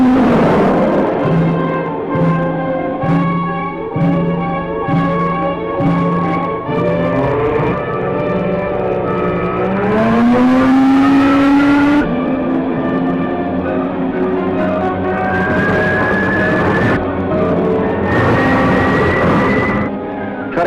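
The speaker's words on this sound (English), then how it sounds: "Captain Vídeo and the Ranger race toward Atoma in their space rocket to save the famous scientist." A space rocket in flight from an old science-fiction serial, heard as a steady roaring drone under sustained musical tones, with a rising whine near the middle and no speech.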